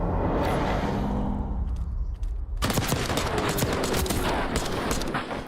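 Rapid gunfire in a Call of Duty esports match between Boston Breach and Rokkr, dense bursts of shots starting partway in and continuing loud to the end, with game effects layered underneath.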